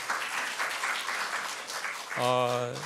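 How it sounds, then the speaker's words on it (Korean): A church congregation applauds together for a couple of seconds, a steady wash of clapping that cuts off as a sustained tonal sound, probably an organ or keyboard chord, begins. "박수하면서 자리에 앉겠습니다"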